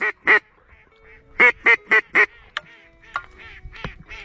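Nasal gadwall duck quacks ring out close by: two, a pause, then a quick run of four, followed by softer calls.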